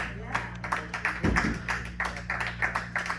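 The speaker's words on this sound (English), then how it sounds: "One more round of applause." Concert audience applause after a jazz performance with saxophone, sparse rhythmic clapping from a small crowd under a low steady hum, with voices briefly audible.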